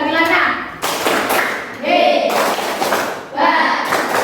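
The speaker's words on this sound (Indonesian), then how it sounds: "Tepuk hebat bagi Lana." A classroom of pupils claps for a classmate in short bursts of rhythmic hand clapping, loud and close, with children's voices and a teacher talking mixed in between the claps.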